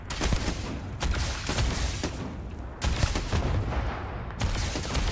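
Rifle fire in the space game Starfield: dense bursts of rapid gunshots that are loud and close, coming in several sustained volleys with brief gaps between them.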